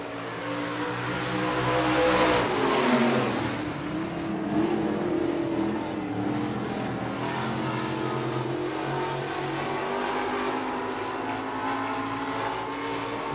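Stock cars race at Buena Vista Raceway, engines roaring as a pack swells past and fades, then a continuous layered drone of multiple cars circling the track, loud and sustained.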